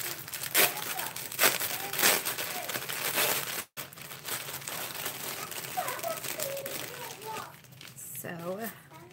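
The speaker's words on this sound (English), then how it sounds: "Sorry for the crinkling." Yarn packaging from Mythica Fibers crinkles and rustles close by in irregular bursts while a person talks over it.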